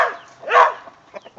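A big dog on a quail-raising homestead barks once, loud and close, with a softer yip and a short whimpering tail-off after it.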